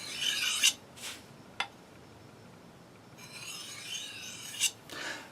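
Knife blade sharpened on a coarse natural stone, producing bursts of gritty rasping strokes with a few sharp scrapes, close and clear, separated by quiet pauses.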